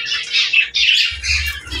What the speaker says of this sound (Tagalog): Gusto talaga nila sa aviary mga kaibon, oh.